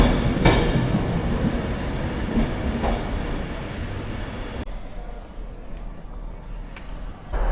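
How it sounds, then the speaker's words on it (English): A ScotRail train sits at platform 7 of a station, giving a steady broadband rumble and hiss with a few sharp clanks. The noise eases partway through, leaving a quieter station hum. "Just came down to platform 7 and there's a ScotRail train here"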